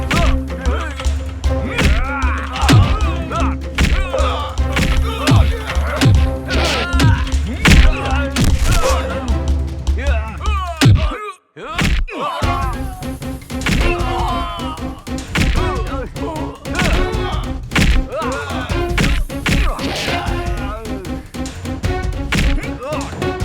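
Punches and blows landing in a dubbed action movie fight, loud repeated thuds, whacks and crashing impacts over a dense music score, with shouting voices and grunts mixed in and a brief dropout near the middle.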